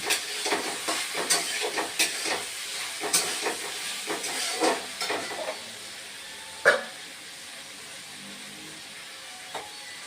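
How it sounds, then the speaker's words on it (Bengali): Potatoes and eggplant frying in a pan with chilli paste, giving a steady sizzling hiss under a run of soft clicks and scrapes from stirring, with one sharper knock near the end. "এখন আলু বেগুন চিনটা আমি কষিয়ে নেব"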